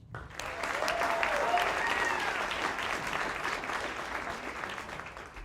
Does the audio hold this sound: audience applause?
yes